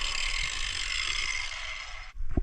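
Angle grinder stuck running in full auto mode in a car-restoration garage, a loud steady high whine that cuts off abruptly after about two seconds, followed by a short low clunk.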